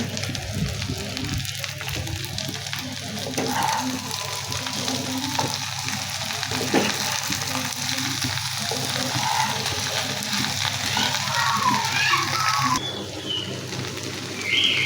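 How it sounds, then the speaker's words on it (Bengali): Sliced okra added to fried onions in a pan, giving a steady, fairly loud sizzling hiss throughout with faint background sounds. "আমি এখন ভেন্ডি দিয়ে দেবো, পেঁয়াজ হয়ে গেছে ভাজা।"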